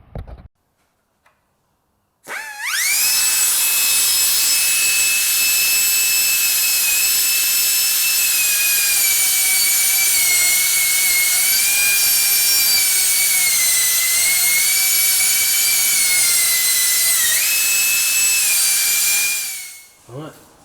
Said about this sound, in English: what I'm going to do is just cut that little section out quick using a grinder